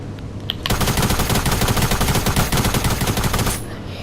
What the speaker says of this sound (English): next up is the tactical SMG